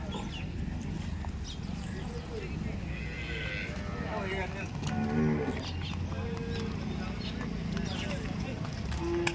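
Gir cows low at a busy cattle market in Dhule, with a few mid-distance moos rising over constant crowd murmur, shuffling animals and indistinct background voices.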